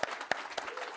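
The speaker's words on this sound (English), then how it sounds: "Big round of applause for that." A brief burst of applause from an audience at a New York City mayoral event on a health care program, with a few distinct close claps amid a light scattered patter.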